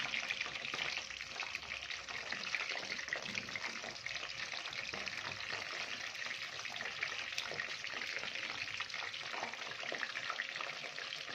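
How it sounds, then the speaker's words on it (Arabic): Mumbar, rice-stuffed intestines, fry in hot oil with a steady dense crackling sizzle that stays fairly loud and even throughout, with no voices. "هنبتدي بقى نحطه في الزيت عشان يتحمر"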